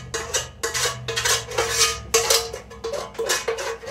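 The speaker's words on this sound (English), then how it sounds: "Coating the pan with a little bit of butter." Butter is spread around a baking pan for peanut butter cookies, making a quick series of close brushing, scraping strokes in a steady, busy rhythm with no talking.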